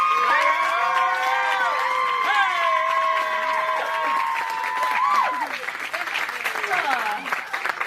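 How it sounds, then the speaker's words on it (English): A wedding reception crowd claps and cheers, whoops and shouts rising over steady applause. "Can we give a super quick round of applause for the effort, by the way?"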